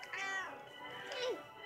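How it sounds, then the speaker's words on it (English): A cat meows for attention in two drawn-out calls, one rising then a second falling, close by in a quiet room with a faint voice murmuring underneath. "And now the cat's like, pay attention to me."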